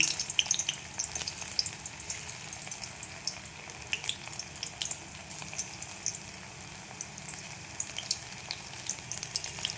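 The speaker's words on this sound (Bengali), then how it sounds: "তেলটা গরম হয়ে গেছে, আমি একটা একটা করে ছেড়ে দেবো।" Continuous bubbling and crackling of soybean chunks frying in hot oil, steady and close, with occasional sharper pops and no talking.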